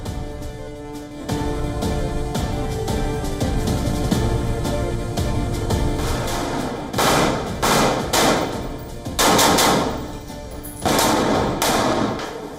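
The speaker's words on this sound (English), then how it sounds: "Intense shelling and gunfire by the Israelis rocks Rafah in the southern Gaza Strip" Intense shelling and gunfire in Rafah in the southern Gaza Strip: dense bursts of automatic fire and heavy blasts crackle continuously, with louder volleys clustering toward the end.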